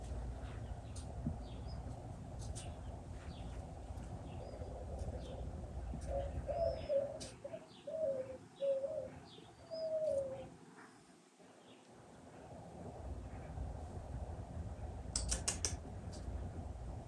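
A bird calls outdoors with a run of soft, cooing notes in the middle of the stretch. The calls are moderately close over steady background noise, with some scattered light tapping.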